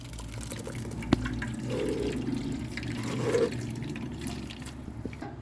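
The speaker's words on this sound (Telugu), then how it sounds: "ఇది నీళ్ళు పోసుకోవాలి." Water poured over grated coconut to extract coconut milk, a steady close gurgling pour lasting several seconds with a single sharp clink early on and soft splashes.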